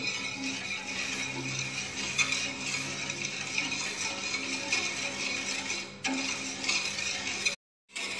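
Pineapple syrup taro pudding mixture with agar-agar and sugar being stirred in a pot, a continuous soft scraping and rattling texture with faint ticking clinks, steady throughout and cut off by a brief silence near the end.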